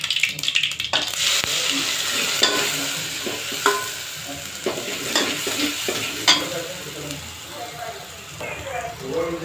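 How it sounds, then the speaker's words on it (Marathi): Green chilies sautéing with cumin seeds in a hot pan, crackling sizzle with sharp spatula clinks and scraping stirs, close by, with a voice talking intermittently over it. "मिरची व्यवस्थित परतलेली आहे."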